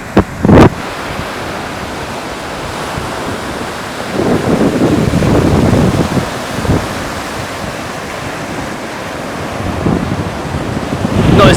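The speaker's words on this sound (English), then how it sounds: "I can hear the sea getting louder." Rough sea waves wash onto a quiet beach in Thailand at night, a constant loud roaring wash that swells around the middle, with wind buffeting the microphone and no talking.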